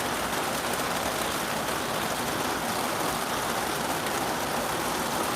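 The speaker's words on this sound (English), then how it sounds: "Big heavy drops. It must be from way up high." Heavy raindrops falling in a steady, dense hiss that stays even and continuous throughout, fairly loud and close, with no voices.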